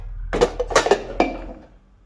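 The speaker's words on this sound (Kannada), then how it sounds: "ಅಲ್ಲಲ್ಲೇ ತೊಳ್ಕೊತಾ ಇದ್ದೀನಿ ಎಲ್ಲ ಪಾತ್ರೆಗಳನ್ನು" Pots and dishes being washed at a kitchen sink during cooking: a short run of close metallic clanks and clinks of cookware knocking together, then quiet.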